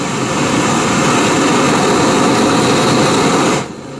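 A FireMaple Trident butane camping stove burner roars with a steady, loud flame, hissing evenly for several seconds before cutting off abruptly near the end.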